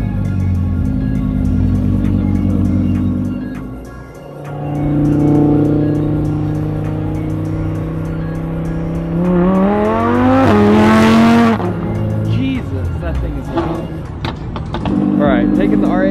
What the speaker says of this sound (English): We're taking Fruit Loop, the single turbo 335i, for some roller action.